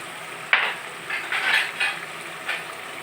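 Beef pieces fry in a pan as ginger-garlic paste, cumin paste and turmeric are stirred in, a low sizzle broken by several scraping strokes of a spoon against the pan.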